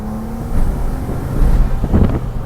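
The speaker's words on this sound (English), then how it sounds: "It's a V6, take a look. Damn, man, the engine is solid," A V6 car engine runs and revs close by in short swells, a low rumbling drone with some wind buffeting the microphone.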